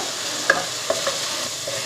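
Spoonfuls of masala spices stirred into onion and tomato in a hot pan while making brinji rice, with a few scraping clicks over a soft steady sizzle.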